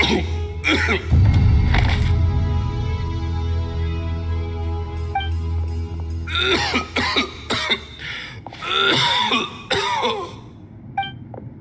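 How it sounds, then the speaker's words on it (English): Repeated harsh coughing fits from a character in Genshin Impact, loud and close, in clusters separated by short pauses over a low droning background. "Why is he coughing so much?"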